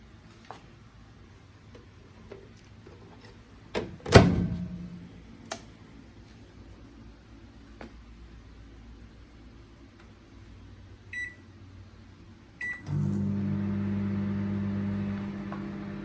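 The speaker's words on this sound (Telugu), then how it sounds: "నేనైతే ఓవెన్లో పెట్టుకుంటున్నాను" A microwave oven cooking cluster beans: soft clicks and a loud thunk of the door, a few beeps from the keypad, then the steady low hum of the oven starting up and running.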